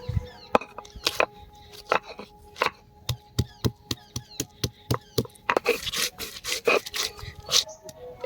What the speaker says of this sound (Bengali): আদাটাকে আমরা বেটে নেব।